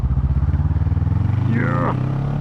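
A Kawasaki Vulcan S motorcycle engine thumps steadily at low revs while riding, loud and close with a pulsing rhythm, as a rider briefly speaks over it.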